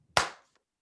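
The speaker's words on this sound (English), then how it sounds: "and clap" A single sharp hand clap during a drama warm-up game, loud and close, ringing out briefly before silence.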